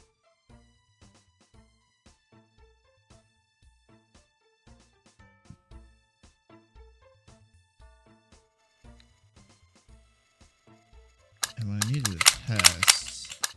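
In the Zomclave video game, faint sparse mechanical clicks of reloading lead into a dense, loud burst of rapid gunfire near the end, with no talking.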